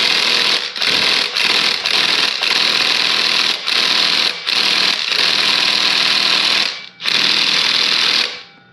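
A SeeSii cordless 1/2 inch impact gun working a 19 mm crank bolt: loud, close rattling hammering in repeated bursts separated by brief pauses, ending after a final long run.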